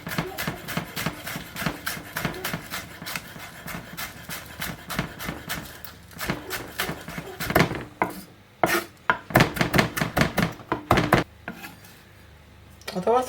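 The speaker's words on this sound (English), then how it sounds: "Now I'm just going to chop up some spring onion tops." A knife chops spring onion tops on a board in rapid, even taps, pausing briefly before a faster burst of cuts, with a voice speaking in between.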